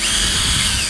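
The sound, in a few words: big power drill boring through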